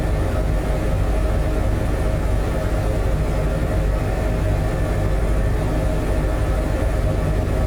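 Steady turbine whine and broad rotor rush of an HPG H145 helicopter engine spooling up in MSFS 2024, a constant loud roar with no breaks and no talk.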